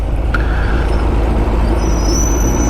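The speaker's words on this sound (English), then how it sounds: "Oh, squeaky brakes." Heavy road noise rumbles loudly throughout a London bike ride, with a thin high-pitched squeal from squeaky bicycle brakes rising over it near the end.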